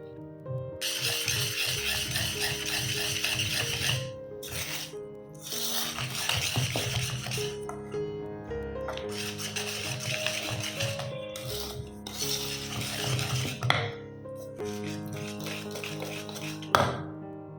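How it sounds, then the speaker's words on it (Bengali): A spoon stirs cake batter in a bowl, scraping and rattling in steady repeated bursts separated by brief pauses, close and fairly clear, with music playing underneath. "এইভাবে ভালো করে নাড়িয়ে নাড়িয়ে অনেকক্ষণ ধরে আমি কিন্তু ব্যাটারটা রেডি করেছি"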